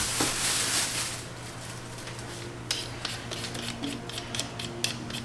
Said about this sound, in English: Peeling the potatoes.